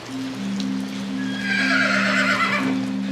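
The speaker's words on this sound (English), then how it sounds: "Let's look at this horse." A horse neighs once, a loud drawn-out whinny in the middle, over a steady low hum and a soft background patter.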